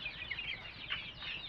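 Chinese breed chickens on a small farm cluck softly, a few short, fairly faint calls over a low background murmur.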